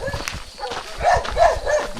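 A dog barks several times in short, close bursts while people talk nearby.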